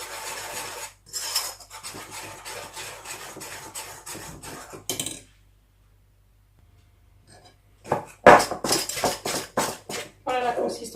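Apple and raisin cake batter being stirred in a bowl, with repeated rasping, scraping strokes in bursts, a quiet pause in the middle, then brisk, close mixing again.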